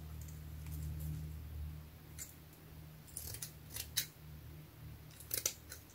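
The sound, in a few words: cutting a piece of string with scissors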